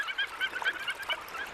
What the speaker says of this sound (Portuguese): Os patos arlequim são visitantes de inverno vindos do Ártico